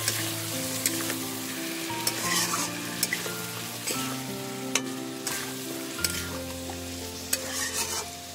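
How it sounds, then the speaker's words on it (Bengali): Meat stir-fried with sugar, Kashmiri chili powder and water sizzles steadily in the pan, with regular scraping and stirring knocks every second or so over soft background music. "মাংসটাকে ভালো করে কষাবো"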